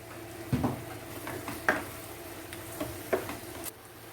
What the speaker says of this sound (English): Fry well.